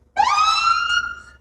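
Emergency siren on a new fire engine, one sharp rising electronic wail that holds steady, loud and close, then tails off.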